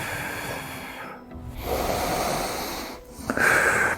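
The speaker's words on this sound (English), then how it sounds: "So deep breaths." Slow deep breaths during a lower-body stretch, with two long audible breaths separated by brief pauses and a sharper, hissy exhale near the end, close and fairly quiet with no talking.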